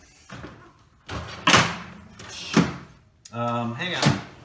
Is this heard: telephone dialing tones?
no